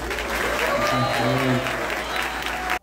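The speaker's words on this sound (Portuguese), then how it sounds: "pedir uma salva de palmas a todos os professores desse país" Applause from a crowd fills the space at a ceremony for a new Brazilian education minister, steady and fairly loud, with voices speaking over it before it cuts off abruptly.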